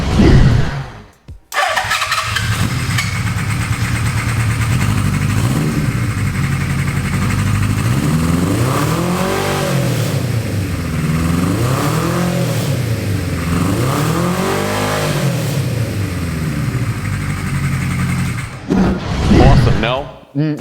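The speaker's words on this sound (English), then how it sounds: "the 4-into-1 engine exhaust sounds wonderful" A 1970s Honda cafe racer motorcycle with a 4-into-1 exhaust starts up and revs repeatedly in rising and falling sweeps, loud and close, then settles to idle before cutting off.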